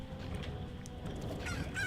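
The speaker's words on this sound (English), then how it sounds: "that's a loud rooster for me to be able to hear it deep inside the ocean depths" A rooster crowing in The Legend of Zelda: Majora's Mask, loud honking calls repeated over a steady game ambience with no talk.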